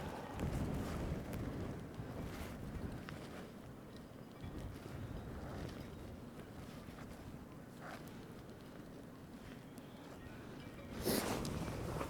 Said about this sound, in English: it's really windy and it's just bashing the rod around quite a lot